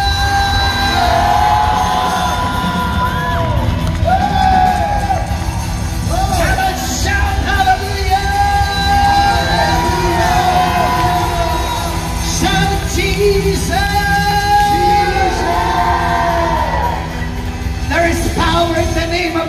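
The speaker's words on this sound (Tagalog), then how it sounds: "Pwede bang sumigaw tayo lahat ng malakas sa hallelujah?" A large crowd at a Jesus festival shouts hallelujah and cheers in loud repeated swells, voices rising and falling together in a reverberant hall.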